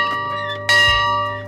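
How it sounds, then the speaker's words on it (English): A big dinghy bell rings out loudly once with a bright clang, followed by a long, sustained metallic ring that fades slowly. "Do you like my big dinghy bell to get your attention?"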